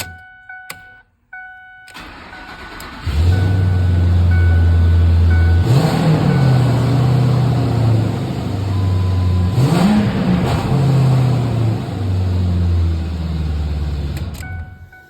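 A Ford F250 pickup truck engine running after a fuel pump repair. A few faint clicks come before it catches, then a loud, steady close-up idle swells into two brief revs before settling back.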